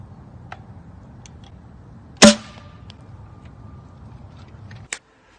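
Rival Caliburn toy blaster firing a dense Adventure Force round, with one sharp loud snap and a short rattling tail, followed by a fainter impact click a few seconds later against a quiet background.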